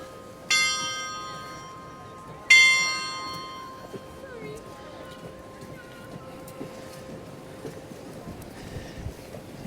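Church tower bells in the Netherlands strike twice in a garden setting, each clear ringing stroke decaying slowly over a steady outdoor background murmur.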